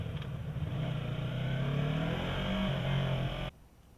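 A 2015 Yamaha R3 motorcycle engine on a test ride, a loud, close, sustained drone with its pitch climbing and holding under throttle, then cutting off abruptly near the end.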